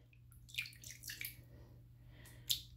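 Tap water runs into a savannah monitor lizard's bath, heard as faint, soft splashes and drips in a quiet room with a low steady hum beneath.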